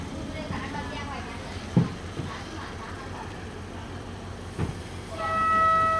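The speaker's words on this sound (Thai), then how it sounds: "มานั่งในรถไฟนะครับ" A train rumbles along as heard from inside a carriage, with low steady running noise, a couple of clunks and a rising tone near the end.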